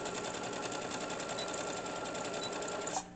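Sewing machine stitching fabric, backstitching with a steady fast mechanical whirr and rapid needle clatter for about three seconds, stopping abruptly at the end; no talking.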